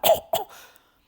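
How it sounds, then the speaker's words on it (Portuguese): A person gives two quick coughs close up, the second trailing into a brief throaty exhale before silence. "Som de tosse"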